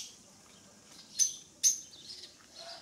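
A few sharp, high bird calls ring out over a quiet background, two shrill squawks close together, then softer chirps.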